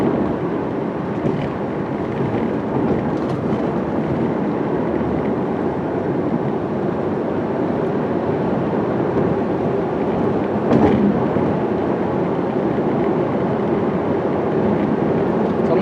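Steady broadband road rumble and wind noise from a 2000 Lexus ES300 (XV20) cruising smoothly, a continuous even drone at constant level with no talking.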